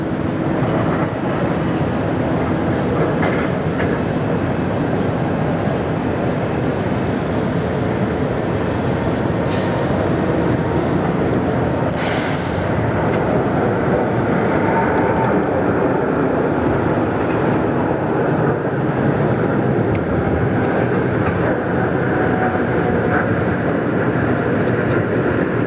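A Qantas airliner at Sydney Airport produces a steady, loud jet roar that holds for the whole stretch, a broad continuous rumble with no voices over it.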